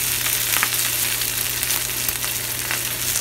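Salami slices frying in a pan, a steady close sizzle and crackle with small pops, continuous and unbroken, no talking.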